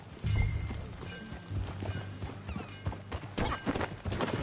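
Hooves clip-clop at a walking pace amid outdoor ambience, with a horse's snort or whinny near the start, in the game Red Dead Redemption 2.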